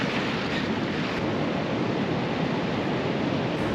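Surf breaks on a beach along the Limestone Coast near Robe as a dense, steady wash of broadband noise, loud and continuous with no distinct wave crests and no voices.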